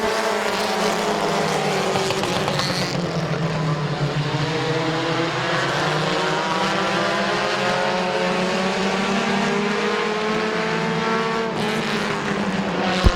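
Several race cars roar around Midvale Speedway in a tight pack, engines droning loud and continuous with shifting pitch as they pass close by.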